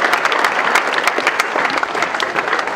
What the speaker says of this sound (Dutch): Geef een hartelijk applaus deze sponsoren die er vandaag allemaal mogelijk hebben gemaakt.